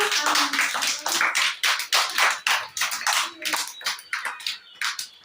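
A group of young children at an ICDS preschool centre clapping their hands together, bursts of fast, uneven applause repeating across the span, close and lively, with faint voices in the background.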